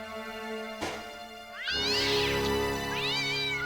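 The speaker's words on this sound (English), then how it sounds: "Oh, it's a cat." A cat in the video game Broken Sword: Shadow of the Templars Reforged meows twice, a long rising and falling yowl followed by a shorter one, loud and close with no talk over it.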